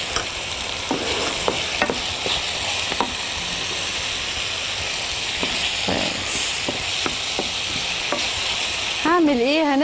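Minced meat sizzling loudly in a pan, a constant close fry with intermittent scraping clicks of a spoon stirring it; no talking.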